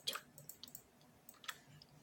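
Soft, wet chewing and smacking sounds close up, a quick irregular run of clicks and mouth noises with no talking.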